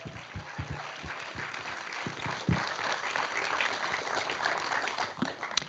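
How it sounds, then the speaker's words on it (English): A large audience at a disability film awards show breaks into warm, sustained applause that swells slightly and holds steady, with a few sharper claps near the microphone. "Huge round of applause."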